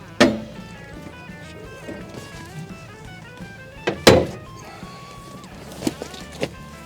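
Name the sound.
storage bench lid flipped open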